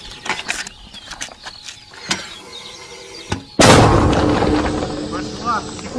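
A single loud, close boom of a mortar launch at Luhansk airport with a long rumbling tail, after scattered clanks and handling noises.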